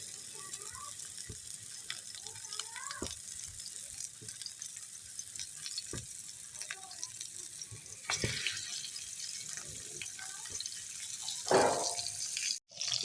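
Beef gola kebabs are set into hot oil, with a quiet crackling sizzle and scattered small pops and clinks, then a louder burst of spattering near the end.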